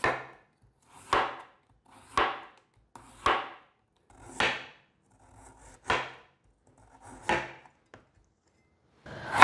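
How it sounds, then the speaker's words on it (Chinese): A knife slicing a carrot on a cutting board, giving seven or eight crisp, evenly spaced chops about a second apart, close and clear with quiet pauses between cuts. "把红萝卜切片。"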